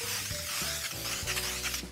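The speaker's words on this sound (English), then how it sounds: "Cookie sheet, spray it down" Cooking spray is sprayed down onto a cookie sheet, a steady broadband hiss lasting about two seconds with a low hum behind it and a brief tail-off at the end.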